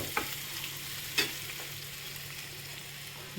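Spiced shola kochu being stir-fried in oil until the oil separates, a soft continuous sizzle broken by a couple of sharp spatula scrapes against the pan.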